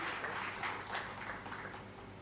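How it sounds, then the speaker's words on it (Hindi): Applause from an audience at a university event for International Girl Child Day, a steady wash of many hands clapping at moderate distance, continuous and fairly soft throughout. "जोरदार तालियां झूमकर पीछे तक"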